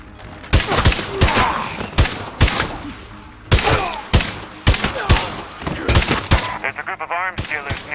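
Loud, sharp gunshots in State of Decay 2 crack out repeatedly in uneven single shots and short bursts, close and punchy, with what sounds like a voice or in-game chatter mixed in toward the end.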